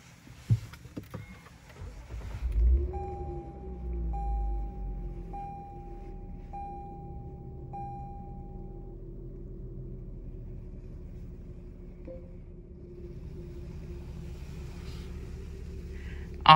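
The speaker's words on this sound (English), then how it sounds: "Let's go ahead and start the vehicle." A 2021 Lexus IS350 F Sport engine cranks and catches with a low rumble, then settles into a smooth, quiet idle under a steady electronic chime tone, heard close up inside the cabin.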